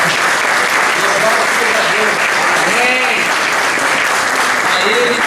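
Loud, sustained applause from a church congregation during a Portuguese-language service, many hands clapping continuously, with scattered voices and cheers rising above the clapping throughout.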